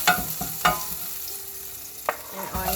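Fresh garlic fries in a pan for pork adobo, giving a steady close sizzle broken by a few sharp stirring scrapes and clatters, with no voices.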